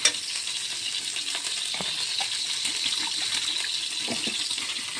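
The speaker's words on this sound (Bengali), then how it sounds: "এবার আমরা জল দিয়ে দেবো" Water hisses and bubbles steadily as it is poured into a hot pan of mustard paste and shrimp, with small clinks and stirring clicks scattered through the sizzle.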